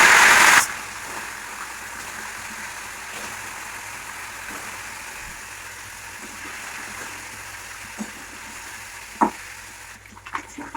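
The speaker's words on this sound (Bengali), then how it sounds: "তেলটা আমাদের গরম হয়ে গেছে, মাছটা দিয়ে দেবো।" Fish frying in hot oil, a loud splash-sizzle as the salted fish goes in, then a steady even hiss with a couple of faint clinks toward the end.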